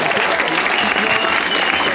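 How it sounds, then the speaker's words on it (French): A fan-zone crowd in Torcy applauds a silver medalist with a dense, loud, continuous wash of clapping that holds steady throughout. "On peut l'applaudir, s'il vous plaît"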